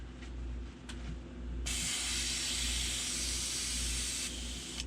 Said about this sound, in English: Let's run a little water through the water clips just to make sure she's spraying good.